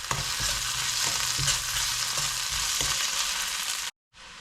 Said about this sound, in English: Sprinkle some salt and saute them until they turn into light golden brown.